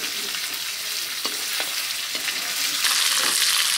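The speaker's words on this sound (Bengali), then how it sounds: "মাংস ভাজা" Pieces of poultry chicken fry in hot oil in a pan, giving a close, continuous sizzle broken by a few crisp clicks and pops as they are stirred.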